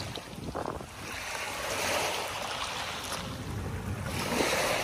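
Strong waves surge and crash along the shore of Manila Bay, a loud, continuous roar of surf with gusting wind buffeting the microphone throughout.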